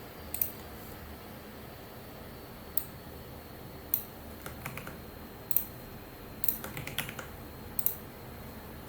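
Fingers typing a Neo4j database query on a computer keyboard, sparse soft key clicks in small irregular clusters over a quiet room hum, without speech.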